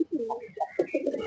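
A Jabra Panki pigeon coos close by, a short burst of soft throaty warbling notes in quick succession.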